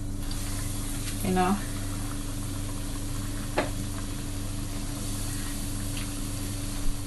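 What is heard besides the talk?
chicken potato dumpling frying in oil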